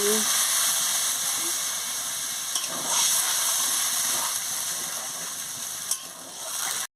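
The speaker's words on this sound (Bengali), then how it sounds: "আমার মতন জলটা দিয়ে দিচ্ছি" Water poured into spices frying in a pan for a pointed gourd and potato curry sets off a loud, steady steamy sizzle and hiss that fills the whole stretch without a break.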